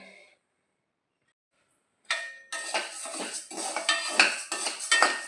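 Urad dal being dry-roasted in a pan: dense, continuous scraping and rattling of lentils stirred against metal, fairly close and steady after a brief silent gap, with no talking.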